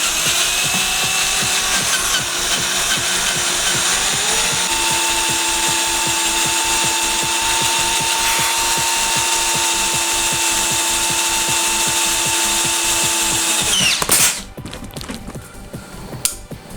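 A power tool whirs steadily for about fourteen seconds with a rapid rhythmic chatter as it bores into material, then cuts off abruptly.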